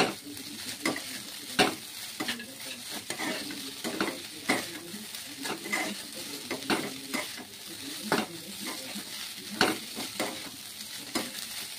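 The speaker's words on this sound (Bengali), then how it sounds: "পাস্তাটা একটু নাড়াচাড়া করে একটু ভাজা ভাজা করে নিলাম" Pasta tossed with peanuts and chopped chilli sizzles steadily in a hot pan, broken by regular sharp scrapes and clacks of a spatula stirring it, close up with no talking.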